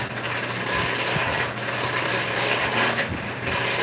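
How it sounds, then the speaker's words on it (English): Hand crank forge blower turned by hand at a blacksmith's forge, giving a continuous whirring, gear-driven rattle with faint ticking at a steady pace, fairly close and moderately loud. "Hand crank blowers are great, man. You can really control the fire."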